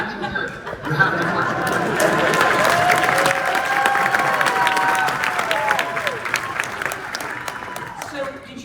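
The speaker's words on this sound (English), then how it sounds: "you hear them clapping?" Audience at an Emmy consideration event for the Moon Knight series claps steadily for several seconds, a dense patter of hands with crowd chatter and a little laughter mixed in, fading toward the end.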